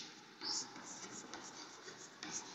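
Writing strokes on a board during a chemistry lecture, a soft scratchy rubbing that runs through the whole short stretch, with two brighter squeaks of the marker or chalk.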